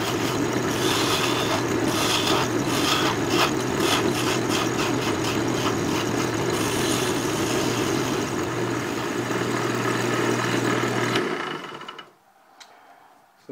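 A lathe tapers the bowl area of a wooden tobacco pipe: a loud, continuous hum with grinding and rasping from the cutting tool for about eleven seconds, then it suddenly drops to near silence.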